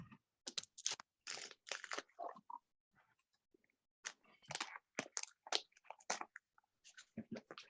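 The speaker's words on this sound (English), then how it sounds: "run it through your cutting machine" An electronic craft cutting machine slices through card stock for a kids' Fourth of July card, giving close, crisp bursts of scraping and clicking in irregular runs with brief pauses.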